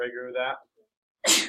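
A single sharp sneeze in an algebra classroom bursts out right after a teacher speaks, loud and close, following a brief pause.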